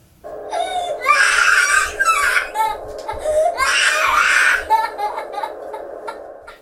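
Two-year-old girl screaming and crying at bedtime, refusing to sleep: loud wailing bursts in two long stretches with short gasping breaks, close and alone.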